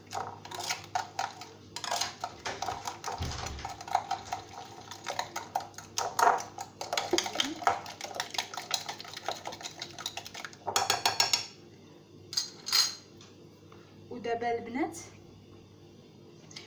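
A utensil scrapes and clinks against a bowl while flour, vanilla and a pinch of salt are mixed for a tea sweet, irregular knocks and rattles with a voice talking over them.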